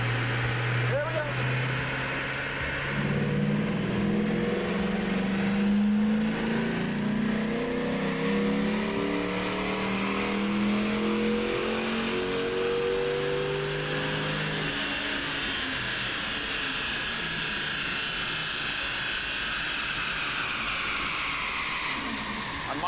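A car engine in the video game Battlefield 6 revs up steadily through rising gears for several seconds, then drops off, continuous and moderately loud with a voice talking over it.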